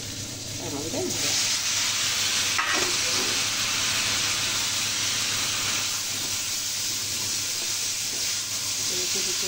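Boiled eggplant being stirred in a pan for eggplant mash, a continuous soft frying hiss with scraping stirring sounds, faint voice fragments in the background.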